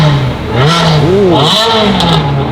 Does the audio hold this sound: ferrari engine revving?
yes